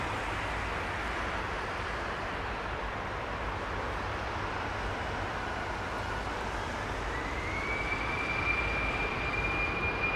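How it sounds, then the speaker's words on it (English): A departing airliner at London Heathrow under low cloud gives a steady, broad, distant roar that holds throughout, with a faint rising engine whine emerging toward the end; no voices. "So it's going to be quite loud departures."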